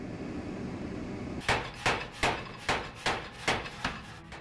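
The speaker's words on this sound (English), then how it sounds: "And then we start forging." Hammer forging steel for knife blades: after a quiet start, about eight sharp, evenly spaced metallic blows ring out in a steady rhythm, close and clear.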